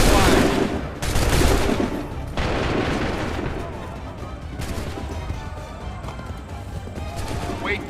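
Musket gunfire volley in the Assassin's Creed 3 video game, a loud dense crackle of shots rolling into booming reports that fade into a lingering rumble of battle, with voices shouting orders over it.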